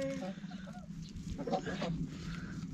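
Chickens cluck softly at a Turkish rural home, their short clucks mixed with farmyard ambience and a faint voice nearby.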